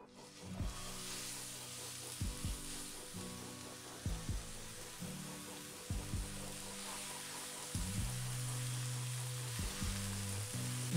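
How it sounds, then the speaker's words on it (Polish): Steady, loud sizzling of meat patties for Danish pariserbøf frying in a pan over medium heat, with occasional low clunks and shifts in the crackle throughout. "A więc kładziemy mięso na patelnię."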